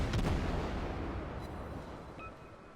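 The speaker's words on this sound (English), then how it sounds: "I'm in secondary battery range as those torpedoes fly." Secondary battery guns on a warship in World of Warships fire in a dense, rumbling barrage, heavy booms loudest at the start and then rolling on as a continuous low roar.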